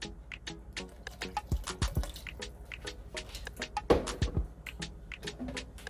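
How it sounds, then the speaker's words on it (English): Sherry poured into a pot of seafood chowder, a run of close, irregular liquid drips and splashes with a few fuller plops. "Now I'm gonna add a little of the sherry, maybe about 1/4 cup."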